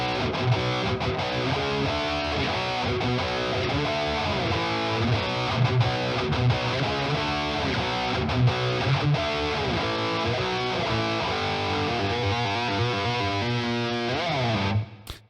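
Heavily distorted metal electric guitar through the Aurora DSP Rhino Massive plugin with classic 80s-style reverb, chugging riffs and sustained chords played continuously and loud, ending abruptly with a short reverb tail.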